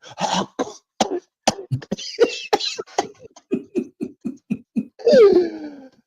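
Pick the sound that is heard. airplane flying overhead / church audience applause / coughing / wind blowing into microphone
coughing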